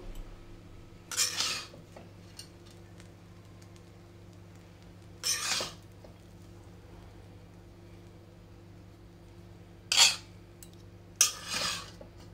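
A metal utensil scrapes and clinks against the pot while fried prawns are mixed into a spiced dish, four short scraping strokes spaced apart over a steady low kitchen hum.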